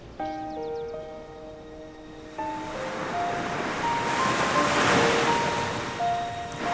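Ocean waves washing onto a sea shore, a steady broad surf roar with some wind, rising and swelling toward the middle, heard under soft sustained music tones.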